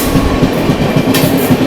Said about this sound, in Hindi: चलिए स्टार्ट करते हैं भुवनेश्वर तेजस राजधानी एक्सप्रेस के साथ। राजधानी एक्सप्रेस 22823 भुवनेश्वर न्यू दिल्ली तेजस राजधानी